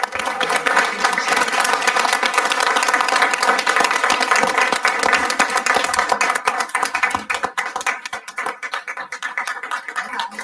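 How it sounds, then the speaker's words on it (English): A room full of people at a school board meeting claps steadily for an alumni excellence award, dense continuous applause that thins and fades slightly toward the end. "let's give a huge round of applause for our alumni excellence, Chuck Freeby."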